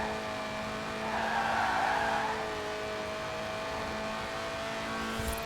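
A light car with a high-revving 1.8-litre engine, well under 700 kilos and 190 horsepower, drifts in the Forza Horizon 4 racing game, its engine droning steadily with a brief swell of tire noise, heard alone.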